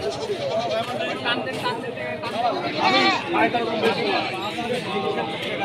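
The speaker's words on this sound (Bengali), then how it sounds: "এই যে আবার একটা পাটি ছাগল।" Goats bleating repeatedly at a busy livestock market in Rustampur Hat, Rajshahi, with several calls rising over a steady hubbub of crowd chatter and nearby talking.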